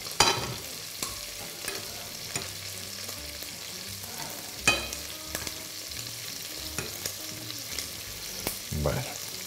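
Bread frying in oil in a pan for sopa castellana, a soft continuous sizzle with scattered clinks and stirring scrapes from a utensil, close and fairly quiet, with no talking.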